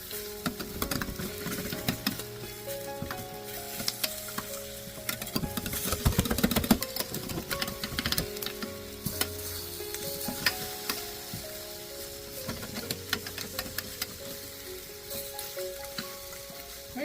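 Drumstick chicken cooks in a pan without oil and gets flipped, giving a soft continuous sizzle with scattered scrapes and clatter over a steady tonal background.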